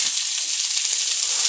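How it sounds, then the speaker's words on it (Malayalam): Mustard seeds spluttering in a little hot coconut oil: a steady, close, bright sizzling hiss with faint crackles scattered through it and no voices. "കടുക് പൊട്ടിയിട്ട്"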